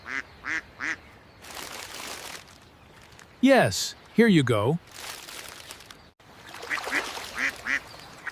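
Ducks at a park pond quack a few times nearby, then loud honking calls break out in the middle, with people talking briefly before and after.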